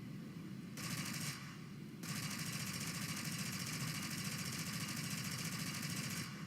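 Russian reserve-tier aircraft machine guns firing in War Thunder, a continuous rapid rattle over a droning engine, with short bursts that start and stop before the fire holds steady, no speech.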